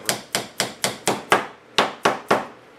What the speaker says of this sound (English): Take a dead blow hammer